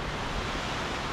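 A brief, even wash of rushing water comes from Jhor waterfall in Tokha, Kathmandu, which is out of sight. The sound is soft and steady, like distant surf, with no voices.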